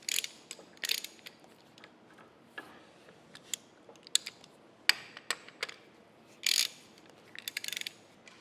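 Wrench work tightening the chuck's mounting studs on a large cane mill roller, heard as scattered metallic ratcheting clicks and short bursts at irregular intervals, fairly quiet with no talk.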